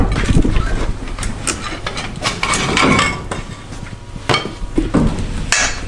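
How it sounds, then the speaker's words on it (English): A pry bar works a badly burnt brake caliper loose after a brake fire, giving close, irregular metallic clanks, knocks and scrapes throughout. "I'm gonna need a pry bar to get this caliper up off of here."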